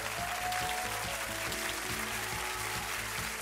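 Studio audience clapping for five young women contestants on a Saturday television talent show, a steady dense wash of applause filling the whole stretch with a faint rhythmic music bed underneath.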